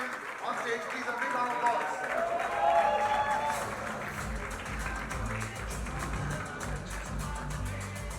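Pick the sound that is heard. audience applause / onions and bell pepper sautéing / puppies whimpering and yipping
audience applause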